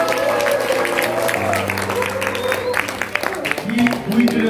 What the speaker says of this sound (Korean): 여기 계시는 여성분을 위해서 뜨거운 함성의 박수 한번 보내주세요.